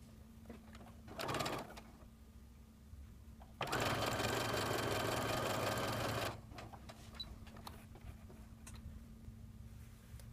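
A sewing machine stitches quilt block pieces together, first in a short burst, then in a longer steady run of fast mechanical whirring over a low background hum.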